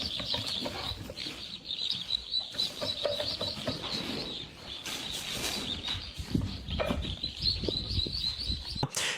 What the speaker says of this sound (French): les poussins sont quand même super bien.